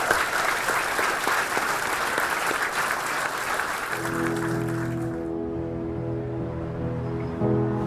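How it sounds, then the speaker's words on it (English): A gala audience claps in steady, fairly full applause for about four seconds, which fades out as sustained music swells in and takes over. "Let's give them a round of applause."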